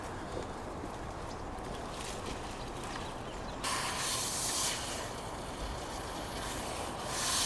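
Water from a hose soaking the soil around a newly planted fruit tree in a garden, a soft steady hiss and spray that grows brighter and louder partway through, with no talking.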